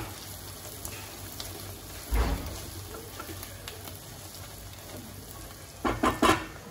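Onions with turmeric frying in a pan as they are stirred, a soft steady sizzle with a few louder scraping stirs.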